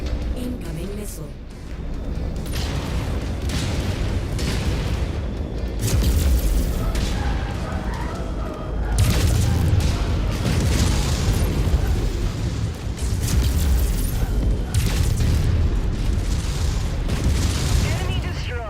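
Missile explosions boom repeatedly in a MechWarrior 5 battle, heavy blasts and rumbling impacts rolling one after another at high volume over sustained game combat noise, with spoken voices mixed in.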